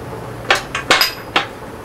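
Grade 8 steel bolts, 5/8 inch, dropped into a metal wheel rim, several sharp metallic clinks and clanks in quick irregular succession, close and fairly loud, one ringing briefly.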